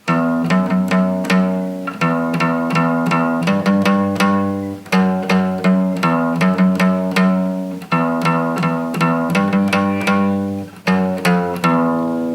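An acoustic guitar plays an intermediate-level passage of picked notes and chords, in steady phrases with some notes left ringing, close and clear with no talking.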